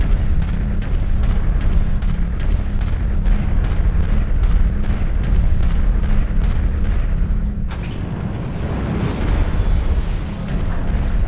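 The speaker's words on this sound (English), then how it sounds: "Strike payload is ready and awaiting your tango confirmation." Artillery strikes in a military video game rumble with a long series of heavy, overlapping booms, loud and dense, ending in a bigger blast and a roaring swell.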